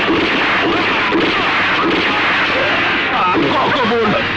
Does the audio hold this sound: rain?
no